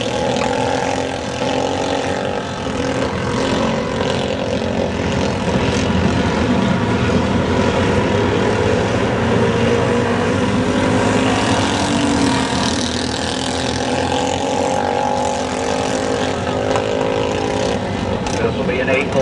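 Junior rookie race cars roar around the track on the opening lap of a heat race, a dense continuous engine drone with shifting pitch as the pack passes, loud and sustained, with an announcer's voice faintly mixed in.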